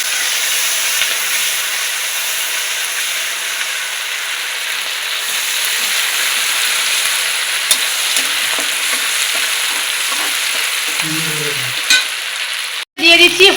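Ground yellow and black mustard paste and four slit green chillies hitting hot oil while mustard hilsa is cooked. A loud, steady sizzle and hiss continues throughout, with a few clinks near the end.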